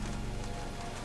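Steady rainfall in the Telltale Jurassic Park video game, a dense, even hiss of drops on surfaces with a low rumble beneath, faint and unbroken with no voices.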